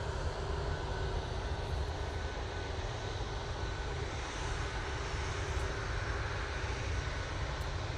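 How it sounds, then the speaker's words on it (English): A Ryanair airliner arriving from Rome on short final sends a steady, fairly faint broadband engine roar with a constant low rumble, with no voices over it. "there is another Ryanair coming from Rome on short final"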